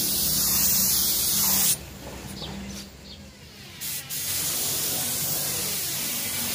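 Clear coat is spray painted onto a Yamaha RX King 2002 motorcycle tank: a loud, continuous hiss of the spray gun that drops briefly in the middle and then resumes at full strength, with no talking.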